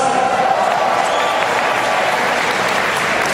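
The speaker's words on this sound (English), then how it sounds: "Round of applause." An audience at a motivational talk gives a steady, loud round of applause that fills the whole clip, dense clapping with no gaps.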